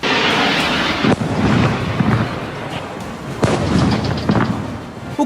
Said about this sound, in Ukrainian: Декілька разів бахнуло і неподалік Сімферополя.